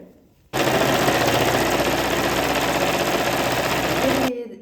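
A sewing machine stitches a skirt top in one loud, continuous, fast run of needle clatter lasting several seconds, starting abruptly and stopping at the end.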